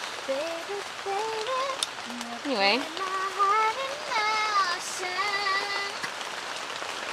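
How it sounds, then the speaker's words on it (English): Steady rain patters on surfaces at a campsite as a wash of noise that lasts throughout, with a person talking close by over it. "there's the rain again"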